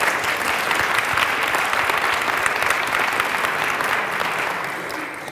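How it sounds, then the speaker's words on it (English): A meeting audience gives sustained applause, a dense, even clatter of many hands that holds steady and eases slightly near the end. "Let's give a round of applause to Laura before we go to questions."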